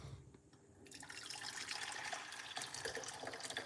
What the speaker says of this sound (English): we're going to get some hot water